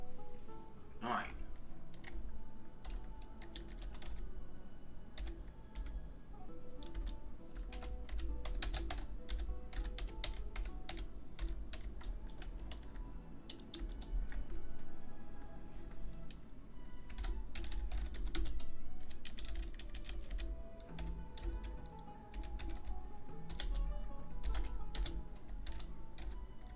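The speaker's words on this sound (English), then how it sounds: "Just doing some typing." Steady clicking of a computer keyboard as someone types in irregular bursts for nearly half a minute, close and fairly quiet, with occasional speech in between the keystrokes.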